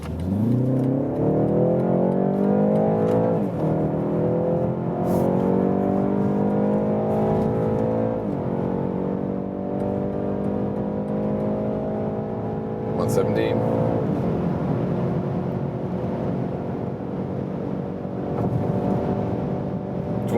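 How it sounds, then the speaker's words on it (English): A BMW 330i in Sport mode accelerating from about 40 km/h, engine note climbing steadily through rising pitch with gear shifts, heard from inside the car under a steady cabin roar. "Now to the BMW 330i, we put it to the Sport mode."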